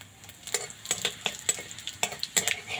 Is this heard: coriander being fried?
yes